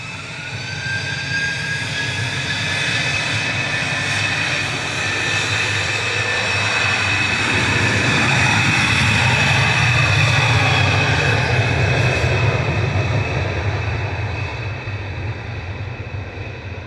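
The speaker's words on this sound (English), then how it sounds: "Departing now, though, is Ryanair to Oslo Torp. This is GRUKL 737-800" A Ryanair Boeing 737-800 jet departing Manchester Airport, a loud sustained engine roar that swells to a peak midway and slowly fades, with a steady high whine running through it.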